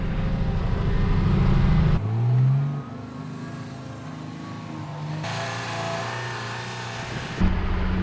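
An articulated dump truck driving back down a hill on a training site, its engine droning steadily and shifting pitch as it changes gear, loud and close.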